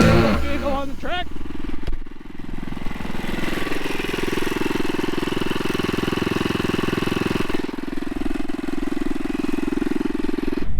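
A go-kart engine runs on a track, its loud, steady drone holding for several seconds and dropping at one point as the machine moves. Bursts of background voices come through at the start.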